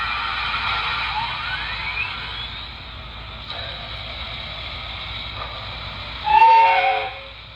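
A short, high model steam locomotive whistle toots near the end over a steady mechanical hum, brief and clear against the quieter background.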